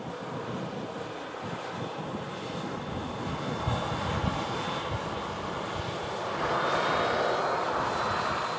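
A SunExpress airliner in special livery passes as a continuous jet engine roar, wind buffeting the microphone, the noise swelling slightly louder toward the end; no talk.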